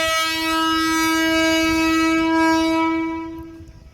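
A MEMU train on the Guntur-Vijayawada branch line sounds a loud, sustained horn blast at close range, holding one steady tone before it fades out at the end.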